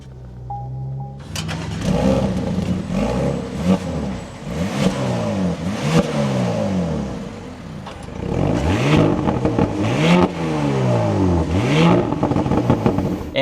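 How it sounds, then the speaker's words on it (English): A 2026 Audi SQ5 engine cranks and fires, then revs up and down in repeated loud blips before settling, heard up close with no talking. "let's start this up and take a listen to how this sounds"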